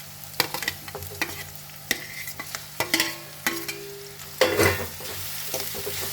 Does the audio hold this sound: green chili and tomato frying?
yes